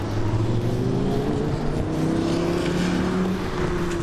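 Rally car racing through rain on the final day of Targa Newfoundland, a steady loud engine drone with shifting harmonic pitch running continuously, close and dense, with no voices.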